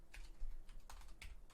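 Quiet computer keyboard typing, a few soft, irregular keystrokes heard close up without any talk.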